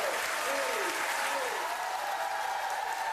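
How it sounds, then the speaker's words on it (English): A studio audience at a television talk show applauds, dense sustained clapping at steady loudness from start to end, with a faint tonal sweep in the background. "Applause."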